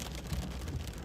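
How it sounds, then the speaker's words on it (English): Large hail strikes a car during a Texas storm, a dense, steady pelting rattle with no break through the short stretch, heavy and close. "You hear the hail hitting his car right now."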